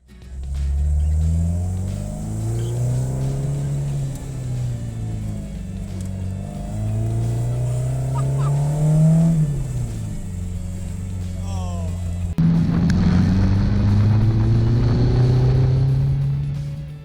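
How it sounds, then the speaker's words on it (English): A 1973 Renault Alpine A110 V85 1300 engine revs up and down through several gear changes, loud and close with a rising and falling drone, a voice speaking over it. "I drive a 1973 Renault Alpine A110 V85 1300."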